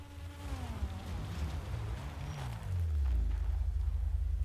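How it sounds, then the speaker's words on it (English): A car in a roleplay video game drives in, a low engine hum rising and swelling louder near the end, close and fairly quiet, with no talking. "who is that car who just drove in here?"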